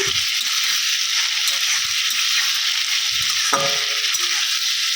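Potato, ridge gourd, pointed gourd and a little onion cook in a pan, giving a constant close hiss of frying with a few soft low knocks from the vegetables shifting.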